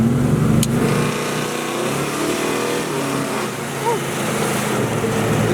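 A Dodge car's engine hums and rumbles from inside the cabin during a ride, a steady close drone with mild variations in pitch, and a brief sharp click near the start.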